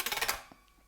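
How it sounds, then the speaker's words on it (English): Aggressive backwards guitar rake across all strings in a shuffle, a quick rattling burst of several muted string hits followed by a short fading ring, close and alone. "a rake is essentially an aggressive stroke of all of the strings backwards"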